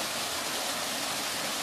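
The first waterfall on the Guairoba stream in the Serra da Jibóia hills near Palmeiras de Goiás gives a steady, broad rushing roar of falling water, constant and uninterrupted, with no voices.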